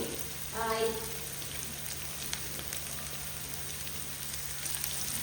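Onions fry in about four spoons of oil with a little salt, giving a steady, soft sizzling hiss that stays fairly quiet and even throughout.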